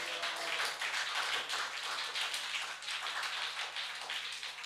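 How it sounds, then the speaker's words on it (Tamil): A church congregation claps their hands together, a dense, continuous patter of many hands at a distance, fairly faint and steady with no voices standing out. "கைத்தட்டி தேவனை மகிமைப்படுத்துங்க பார்க்கலாம்"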